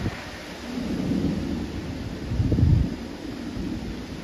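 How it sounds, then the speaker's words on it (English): A nighttime thunderstorm approaches with low rumbling thunder swelling and peaking midway, under steady wind noise and rain hiss, with no voices. "Winds are picking up, and the storm is approaching."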